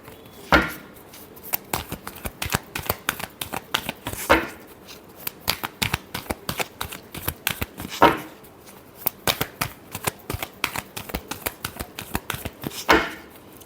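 A deck of tarot cards is riffled repeatedly at close range, quick papery flutters in short bursts separated by sharper slaps, with no voice.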